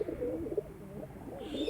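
Pigeons perched overhead coo in soft, rolling, throaty phrases that repeat through the moment, fairly quiet and slightly distant, with no voices.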